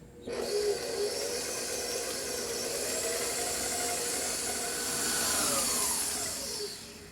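An electric stand mixer with a paddle works lemon juice into gluten-free cookie dough, giving a continuous loud motor whir that holds steady for about six seconds before winding down, with no talking.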